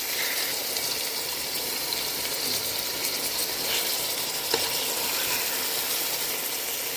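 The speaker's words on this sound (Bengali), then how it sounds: "এই যে ছোট্ট একটা চামচের সাহায্যে আমি মাছগুলোকে এপিট ওপিট করে দিচ্ছি এরকম করে।" Salmon pieces frying in a pan and being turned over with a small spoon give a steady, even sizzle throughout, with an occasional faint click of the spoon.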